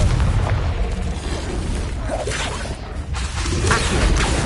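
A Confringo spell explosion in Hogwarts Legacy, a loud booming blast with whooshing debris inside dense, continuous game combat noise.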